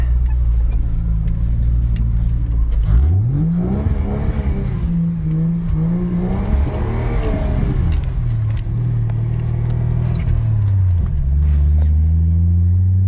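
A Vortec 4200 inline-six engine swapped into a Jeep Comanche idles low, then revs up sharply, holds a high steady note, and settles back to a rumbling idle; loud and close, no talk.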